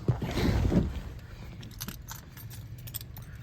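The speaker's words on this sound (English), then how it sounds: "If I put the right key in the ignition." Car keys jangle and clink in a 1973 Ford Mustang coupe, a brief close rattling burst at the start that fades into a low engine-room hum and scattered faint metallic taps.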